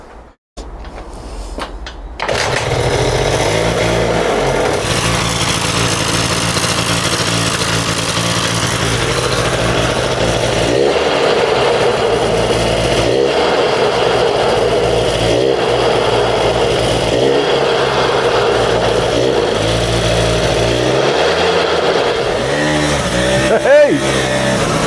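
A small Honda scooter engine starts and then runs steadily for a long stretch with revs rising and falling. It is loud and near, with a rattly gearbox clatter underneath.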